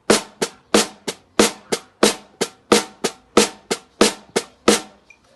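A snare drum played in a steady pattern, roughly a dozen sharp, bright hits evenly spaced, close and loud, with quiet beat strokes from one hand and louder offbeat strokes from the other.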